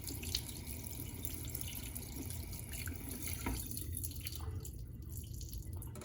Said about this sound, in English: I'm actually going to rinse it through with cold water to cool it down completely